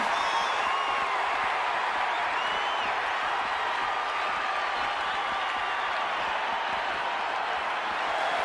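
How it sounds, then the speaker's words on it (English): Steady, dense roar of an arena crowd at a WWE 2K26 wrestling match, a continuous wash of cheering and murmur with scattered whoops, loud and unbroken throughout. "And CM Punk looking for support from the crowd"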